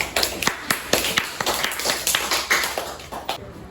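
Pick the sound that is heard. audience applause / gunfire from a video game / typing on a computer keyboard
audience applause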